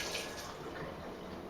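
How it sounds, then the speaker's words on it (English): Soaking water drains from a bowl of rehydrated apricots, a soft steady pour and trickle, faint and close, with no voices. "drain out the water"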